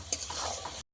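Chicken skin being stir-fried in oil until the fat releases, a short close burst of sizzling with a quick spatula scrape near the start, ending abruptly in silence.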